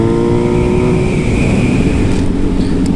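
Suzuki B-King motorcycle engine revving hard while riding through curves, a loud, close, continuous roar with the pitch climbing and falling through gear and throttle changes.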